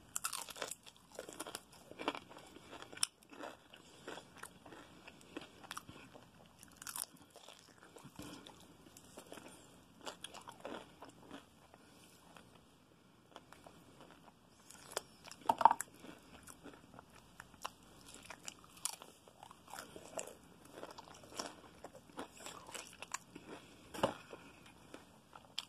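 Crunchy biting and chewing of Taco Bell crispy chicken wings with Mexican queso seasoning, close to the mouth and fairly faint, with irregular crackling bites and mastication spread across the whole stretch, no talking.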